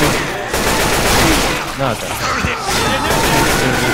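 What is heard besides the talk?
gunfire in the video game Left 4 Dead 2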